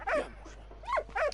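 A dog in the World War I video game Valiant Hearts gives two short, close barks with a slight whimpering tone, separated by a brief pause.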